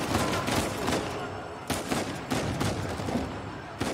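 Constant gunfire fills a firefight in the video game Uncharted 4. Bursts of shots come one after another, with faint voices under them.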